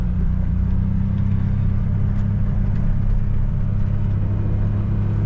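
A Gator utility vehicle's engine drones steadily while driving, a loud, close, continuous low rumble that holds even for several seconds, with no voices.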